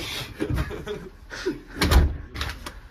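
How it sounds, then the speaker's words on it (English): A door closing in a camp cabin, with a few dull thumps and knocks spread over a few seconds, close by and moderately loud, with no talking. "Close the door."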